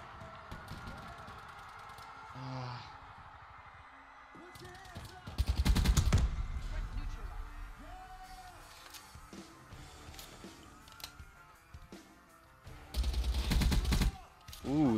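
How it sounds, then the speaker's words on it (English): Suppressed ICR rifle fire in Call of Duty: Black Ops 3 arrives as muffled bursts of rapid shots, one cluster midway and another near the end, set among game sound effects and background noise. "the ICR feels powerful with the suppressor"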